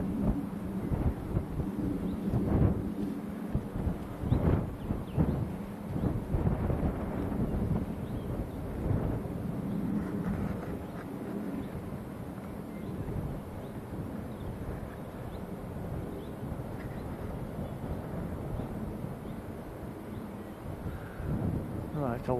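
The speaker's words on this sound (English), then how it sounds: "there's a good stiff breeze blowing" A stiff breeze at Manchester Airport blows across the microphone as a continuous, rumbling wind noise with uneven gusts throughout. A voice is faintly present at times.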